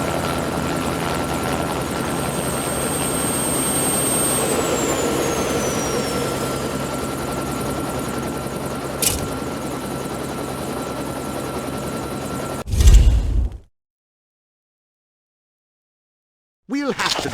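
A helicopter engine and rotor give a loud, steady drone and whine for about thirteen seconds, then cut off abruptly into silence before a short burst of sound returns at the very end.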